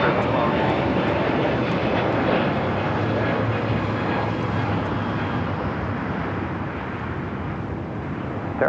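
Jet airliner engines roar at LAX as a 737-800 taxis toward a south-side takeoff, a loud, steady broadband rumble that fills the whole stretch and slowly eases.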